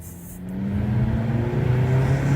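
Jeep Compass engine pulling hard at full throttle onto a main street, a rising drone with climbing engine tone as revs build steadily, loud and close from inside the cabin.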